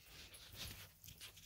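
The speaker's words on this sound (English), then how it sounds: "This is my husky cross huskita." A husky cross dog pants softly and quickly, a faint, close breathy rhythm with no talk.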